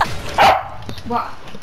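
A dog barks a couple of sharp times up close, with yips in between, while people talk and shout over it during a casual gaming session.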